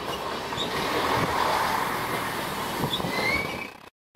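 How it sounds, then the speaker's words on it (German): An AKN commuter train rolls into Neumünster station, track 2, heard from the cab as a loud close rumble of wheels with clicking rail joints and brief high squeals, ending abruptly. "Einfahrt in den Bahnhof Neumünster auf Gleis 2."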